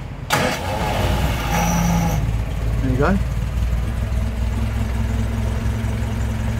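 A 1968 Bedford truck engine cranks briefly, catches, and settles into a steady low idle that rumbles on. Someone says a few words near the start.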